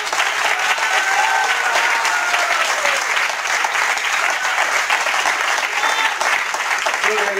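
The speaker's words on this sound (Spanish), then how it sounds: "Iglesia, denle un aplauso al Todopoderoso." A church congregation applauds together in a long, loud, continuous burst of clapping. It fills the room evenly for several seconds, with voices and cheers woven through it.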